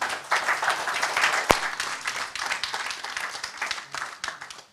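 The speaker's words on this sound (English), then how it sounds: "let's give all our speakers for this morning another round of applause" Applause from a conference audience at a United Nations South-South Cooperation event rolls on as a moderate, uneven patter of many hands, with one sharp knock partway through.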